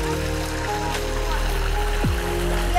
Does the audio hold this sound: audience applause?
no